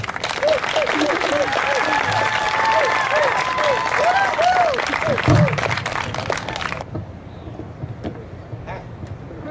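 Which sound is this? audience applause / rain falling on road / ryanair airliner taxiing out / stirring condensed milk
audience applause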